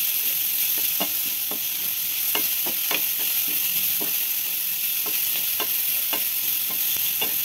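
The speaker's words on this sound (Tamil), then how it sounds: "இப்போ நல்லா வதங்கட்டும்." Chopped onion, carrot and beetroot sauté in a hot pan for varagu semiya upma, giving a steady close sizzle with scattered taps and scrapes of a stirring spoon throughout.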